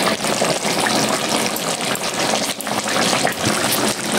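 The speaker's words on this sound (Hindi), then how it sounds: "बस मैं ये ऊपर से पानी छोड़े रखी हूँ 2 बड़े कप के करीब" Water poured from above over mutton curry in a cooking pot, village-style home cooking, making a steady, close rushing splash that runs unbroken for the whole stretch with no voices.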